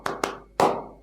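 Hand claps from a children's clapping game at an online church service: three sharp, close claps, with two quick ones followed by a slightly louder third, each ringing briefly in a quiet room.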